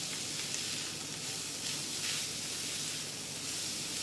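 Steady sizzling of onions and mushrooms frying in a pan, a continuous close hiss with no talking.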